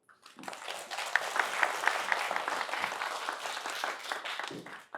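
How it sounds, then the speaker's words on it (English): An audience applauds to welcome a keynote speaker at a philosophy lecture, a full, steady burst of many hands clapping that starts abruptly, holds, and tapers off near the end. "Please join me in giving him a round of applause."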